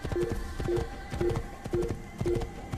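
Horse hoofbeats from the video game Assassin's Creed, set around Jerusalem, sound as a steady, even clip-clop of about six paired hoof strikes at a moderate gallop, close and clear with no talking.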